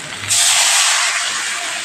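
Water pours into a cooking pot holding vegetables and potatoes, starting with a sudden loud, steady hiss that continues near and unbroken to the end.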